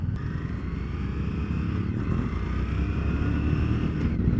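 A 2020 Harley-Davidson Street 750 motorcycle pulls away in first gear on a city road, its engine a steady, loud low rumble that builds slightly as it accelerates, close to the rider with no talk.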